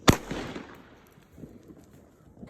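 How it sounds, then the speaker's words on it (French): Firecrackers go off outdoors, opening with a sharp, loud bang followed by a scatter of fainter crackles and pops that trail away over the next two seconds. "Je trouve ça nul les pétards comme ça."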